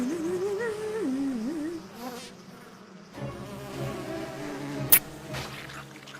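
Cartoon bees buzz in a pony animated episode, a steady insect drone over music for the first couple of seconds, then fainter buzzing mixed with a busy soundtrack.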